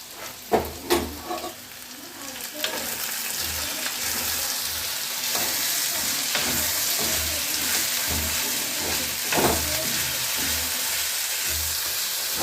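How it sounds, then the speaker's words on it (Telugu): Curry sizzles in a pan while it is stirred, a constant frying hiss with soft rhythmic scraping and knocks from the stirring, plus a few sharper clatters near the start, close and without talk. "సో నేనైతే కూర కలుపుతా ఇప్పుడు"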